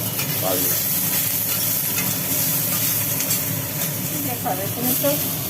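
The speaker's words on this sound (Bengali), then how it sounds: "সোয়াবিনগুলো ভাজা হবে এখন হ্যাঁ।" Soybean chunks sizzle loudly in a hot pan, a constant frying hiss with occasional stirring scrapes, and someone speaks briefly over it.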